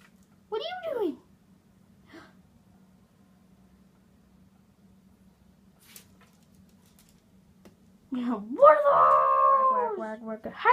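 A dog lets out a brief wavering howl, then after a quiet stretch gives a longer, louder rising howl close by.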